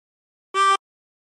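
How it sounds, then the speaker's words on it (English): One short blown note from hole 13 of a 24-hole tremolo harmonica, a steady buzzy reed tone rich in overtones, played close and solo with silence around it. "And blow into 13."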